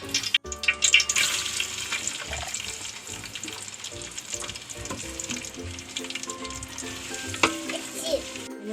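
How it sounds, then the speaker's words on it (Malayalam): Onions cooking in a pan of coconut oil already used for frying chicken crackle and sizzle up close, broken by stirring scrapes, clinks and some splashy bursts. "ചട്ടി വെച്ച് വറുത്ത വെളിച്ചെണ്ണയിൽ തന്നെ അത് പാകാക്കണം."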